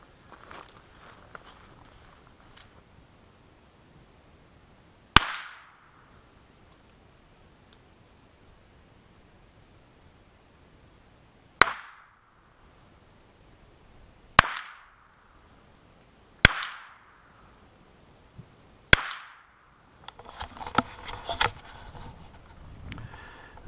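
Five sharp .22 rifle shots ring out while plinking at a target, irregularly spaced and close, each a crisp crack with a short decay, followed by faint handling rustle.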